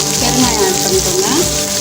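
Onions and asafoetida frying in oil for mor kuzhambu, a loud, close, continuous crackling sizzle, with a few soft stirring sounds and faint voice-like tones underneath.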